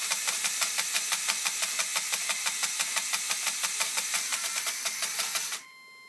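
A small electric motor of a SBrick-controlled LEGO model whines with a high, rapidly pulsing squeal, steady and close for several seconds before cutting off abruptly.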